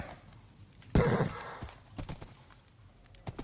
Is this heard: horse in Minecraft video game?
yes